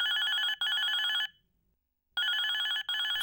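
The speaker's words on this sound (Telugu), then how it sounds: "ఫోన్ మోగుతుంటే ఎత్తకుండా ఏం చేస్తున్నారు?" A telephone bell rings in two long bursts separated by a short silence, loud and close, with no voices.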